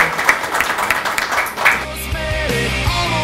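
Applause welcoming a new player to the Police Friends football club, dense clapping from a gathered crowd for about a second and a half before giving way to music and a voice.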